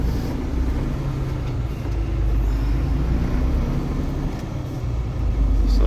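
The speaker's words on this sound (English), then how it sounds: "Oh, I'm peeling out." A vehicle's tires spinning on an icy road, a steady loud low rumble of engine and road noise heard from inside, continuous with no distinct bursts.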